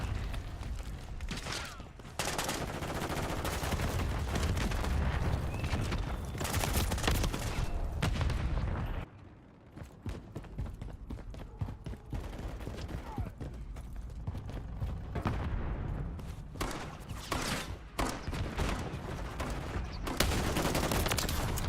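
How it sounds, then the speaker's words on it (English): Gunfire crackles through a Call of Duty: Modern Warfare III multiplayer match, with dense bursts of automatic fire, a brief lull, then sharp repeated shots continuing close and loud. "Taking fire over here."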